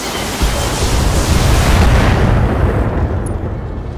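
Mech weapons fire and explode in the Battletech game, a loud sustained roaring blast of broadband noise that swells and then slowly fades without a break.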